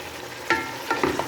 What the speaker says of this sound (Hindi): अब इसमें शिमला ऐड करते हैं। शिमला को भी अच्छी तरह भून लेते हैं।